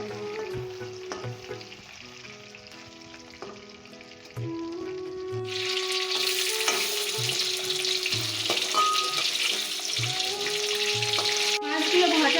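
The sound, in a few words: katla fish frying in oil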